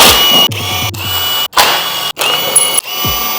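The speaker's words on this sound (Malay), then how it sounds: "Kita buka semua skru dekat keliling." Screws around the magneto cover of a Yamaha 125ZR motorcycle being undone, heard as loud, close bursts of whirring mechanical tool noise broken by several short, sharp pauses.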